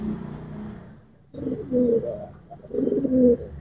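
Soft, low pigeon coos come in a few short bursts with brief quiet gaps between them, close and fairly gentle.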